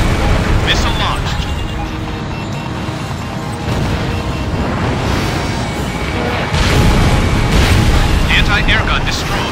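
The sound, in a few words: air gun destroyed, explosion in Ace Combat Infinity video game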